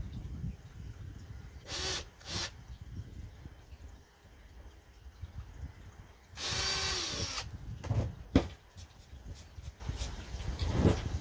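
A power drill whirs in several short bursts and one longer run, biting into wood, with quieter handling and rubbing noises between bursts.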